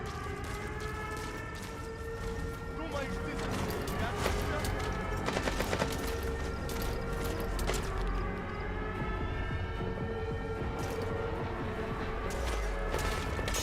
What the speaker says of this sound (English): They're kind of shooting in my area